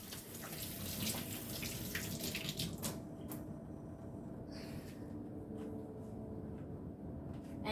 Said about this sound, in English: let's do some hand washing